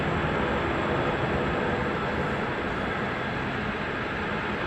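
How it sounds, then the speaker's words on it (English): Douglas DC-6 propeller airliner taxiing at Ted Stevens Anchorage International Airport, a constant dense broadband engine roar with a faint high whine, steady and fairly loud throughout. "DC-6 on the move, here she comes."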